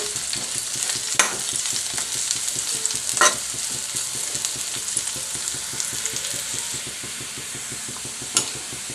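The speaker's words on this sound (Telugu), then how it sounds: "ఒక పెద్ద ఉల్లిపాయ పొడుగ్గా కట్ చేసి వేసుకుంటున్నాను వీటిని ఎర్రగా వేయించుకోవాలి" Long-sliced onion frying in hot oil in a pan, a steady close crackling sizzle with occasional stirring clicks and scrapes.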